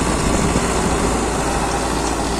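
A Powertrac Euro 60 Next tractor engine runs steadily with a continuous low, rumbling drone and no breaks, close by and fairly loud, with no voices.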